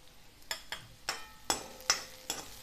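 Poppy seeds tipped into a pan of frying kaleji masala (spiced liver) and stirred, giving a run of soft, regular scraping strokes about every half second over a faint sizzle, close up with no voices.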